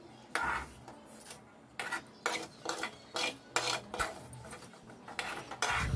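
Metal utensils scrape and clink against a pan and plate as roasted vermicelli for carrot semiya payasam is moved onto a plate, a series of short, close rasping strokes separated by brief gaps.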